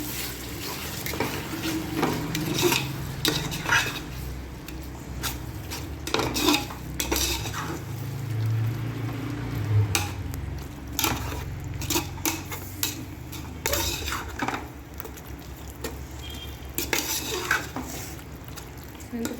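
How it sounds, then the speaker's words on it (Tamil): Tomatoes and green chilies being stirred in a cooking pot for mutton biryani: repeated metal clanks and scrapes of a spoon against the pot over a soft sizzle, close and irregular, with no speech. "போட்டுட்டு நல்லா கிளறி விடுங்க."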